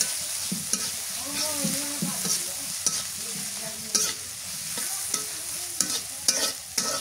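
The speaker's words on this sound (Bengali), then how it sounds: "এটি তেলের মধ্যে ভালো করে ভাজা নিই।" Cinnamon, cloves, and small and large cardamom fry in oil for a chicken curry while being stirred. A soft sizzle runs underneath, broken by repeated sharp scrapes and taps of the spoon against the pan.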